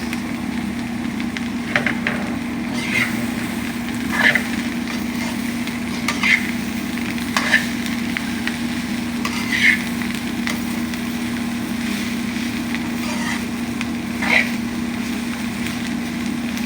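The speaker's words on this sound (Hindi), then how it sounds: "धीरे धीरे प्याज थोड़ा इसके साथ पकेगा करेले के साथ।" Onions stirred and frying with sliced bitter gourd (karela) in a pan, a steady low sizzle with soft periodic scraping strokes of the spoon about every two seconds, close and moderately quiet, no talking.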